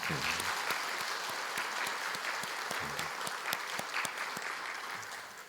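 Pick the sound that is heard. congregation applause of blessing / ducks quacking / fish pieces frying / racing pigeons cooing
congregation applause of blessing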